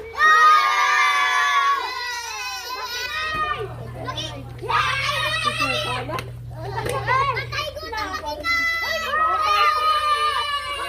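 Children shout and cheer loudly as a group, rising in bursts with a brief quieter gap in the middle, during a kids' bottle-flip challenge at home; excited young voices overlap throughout.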